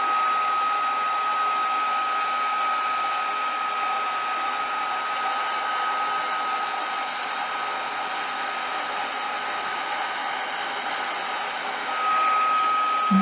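A heat dryer blows continuously close by as paper towel sunflower petals are dried, giving a steady loud whine with a sustained tonal hum and no pauses.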